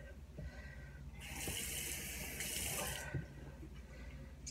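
Water runs from a bathroom tap into a sink during face washing, a steady splashing gush that starts and stops twice, fairly quiet and close, with no talk over it.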